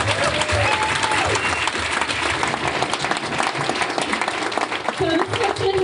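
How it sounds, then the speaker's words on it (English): An audience at a startup pitch competition applauds after a round of one-minute pitches, with steady clapping running under a speaking voice throughout. "Let's just give one more round of applause for all of you guys"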